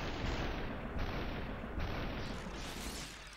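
An assault rifle in SUPERHOT lets off loud, dense bursts of gunfire, a continuous rattling roar that keeps going with slight swells before tapering at the end.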